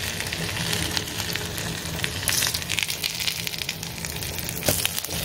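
Dry red chillies, cardamom and cumin sizzle in hot oil while cooking a prawn and taro curry, a steady close crackling fry with scattered sharper pops and no talking.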